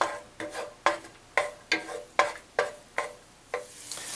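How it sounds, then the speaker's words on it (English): Garlic sautéing in oil while being stirred, heard as about nine evenly spaced scraping, sizzling strokes roughly every half second, close and moderately loud, each fading quickly into a soft hiss. "So we're just going to saute this just about a minute"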